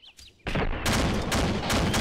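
Sustained gunfire in the ArmA 2 military video game: a quiet start, then dense, loud bursts of shots and blasts that come in waves and continue to the end, with no talk.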